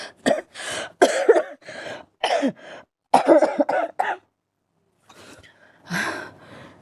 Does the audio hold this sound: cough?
yes